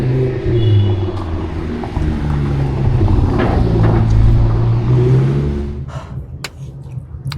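A Lamborghini car engine rumbles and revs up close, loud and sustained for several seconds before easing off near the end, with no speech over it.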